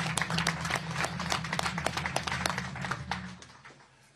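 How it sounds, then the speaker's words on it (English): Scattered applause from a press conference audience at an HBCU in Pennsylvania, with distinct individual claps rising and thinning out before fading to quiet near the end. "I think that deserves a round of applause"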